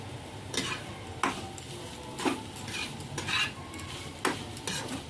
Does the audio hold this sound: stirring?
yes